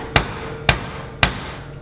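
Three sharp, evenly spaced hammer blows ring out on metal during work welding chassis reinforcements, each a loud close strike with a brief ringing decay, no talking.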